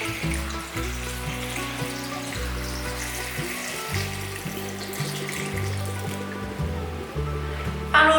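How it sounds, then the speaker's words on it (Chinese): Filtered water poured over okra in a bowl, a steady rushing pour that runs nearly the whole time over soft background music, ending with a brief splash. "倒入过滤水"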